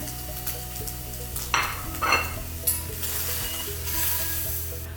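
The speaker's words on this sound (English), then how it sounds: "Once our scrambled eggs are set, we're going to remove them from the pan." Set scrambled eggs are scraped and lifted out of a hot pan, with a utensil scraping and knocking against the pan over a continuous close frying sizzle, no talking.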